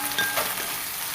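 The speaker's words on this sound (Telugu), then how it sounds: "1 స్పూన్ అల్లం వెల్లుల్లి పేస్ట్ వేసి పచ్చివాసన పోయేంత వరకు ఫ్రై చేసుకోండి." Ginger garlic paste and curry leaves frying in hot oil for a broad bean curry, a loud close crackling sizzle with a stir near the start, continuous and without talk.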